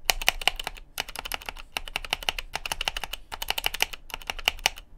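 Mechanical keyboard keys clack in quick bursts of crisp, close-up presses, including a spacebar with lubed stabilizers, pausing briefly between runs.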